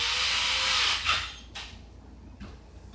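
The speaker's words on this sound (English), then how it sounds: "Let's get our drill bit back in here." Power drill boring into wood, a sustained high whirring grind for about a second, then stopping, followed by a few short clunks and scrapes from handling the workpiece.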